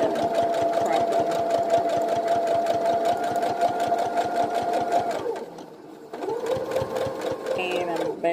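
Domestic sewing machine stitching a fabric face mask, a steady rapid needle rhythm running for about five seconds, pausing briefly, then resuming at close range with no talk.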